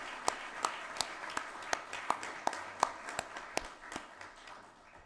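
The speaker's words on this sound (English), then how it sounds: "let's give Working Group 2 another round of applause." Sparse, quiet handclaps from a small conference audience at Stability Policing Day 2023, applauding Working Group 2, with individual claps at an uneven pace that gradually fade.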